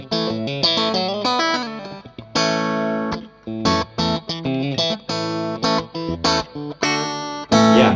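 A Mayones Aquila custom electric guitar is played through effects, with distorted, chorused phrases in loud, bright bursts and sustained chords broken by short pauses, close and alone.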